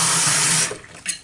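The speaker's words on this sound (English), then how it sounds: "Once it's done with, you pour some water into it" Tap water pours into an empty sweet corn can at a kitchen sink, a loud continuous rush that cuts off abruptly, followed by a brief splash.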